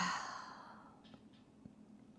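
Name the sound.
exhaling through an open mouth during yoga breathing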